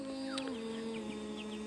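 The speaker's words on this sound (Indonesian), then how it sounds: "Ini contohnya ada anak ayam di sini" Young chicks peep at a sacred hillside graveyard in a series of short, high chirps, moderately close over a steady background hum.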